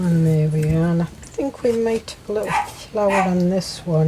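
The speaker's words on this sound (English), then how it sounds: "Oh, that's my dog just coming for it from a walk." A dog's sharp barks and yips as it returns from a walk, loud and close, breaking out between and over a woman's speech indoors.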